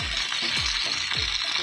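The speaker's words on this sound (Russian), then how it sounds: "Мясо не солили, не перчили, просто положили жариться." A large piece of unseasoned pork fries in hot oil in a pan, with a loud continuous sizzle and hiss and a few soft rhythmic scraping clicks.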